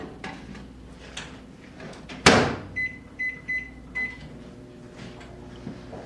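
A microwave oven in a home kitchen is set for two minutes with a covered dish inside: a sharp thud as the door shuts, then a run of four short electronic beeps over a steady low hum.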